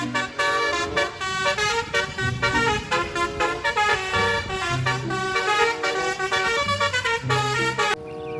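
A toy bus sounds its telolet horn, a loud, bright, melodic electronic tune of rapid multi-note toots that plays continuously for about eight seconds and then stops.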